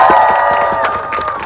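A rally crowd cheers and claps loudly and steadily, with shouts and a whistle-like tone rising above dense applause throughout.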